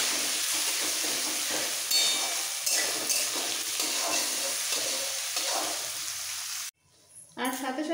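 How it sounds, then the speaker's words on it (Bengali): Boiled corn sizzles and crackles as it fries in a pan for masala dosa filling, a steady close hiss with stirring scrapes, cutting off abruptly near the end before a voice begins. "এবার একটু ভেজে দেবো।"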